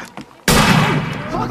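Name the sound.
rifle gunshot in the film Exists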